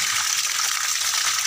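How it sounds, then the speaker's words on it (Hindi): Electric water pump motor running at home with water gushing out steadily, a loud continuous broadband rush that stays even throughout with no talk. "तो अभी देखिए ये हमारा मोटर चल रहा है।"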